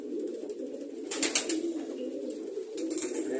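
Pigeons coo steadily in a loft, a low soft murmur running throughout the short stretch, with a brief burst of brighter fluttering or scuffling near the middle and no talking.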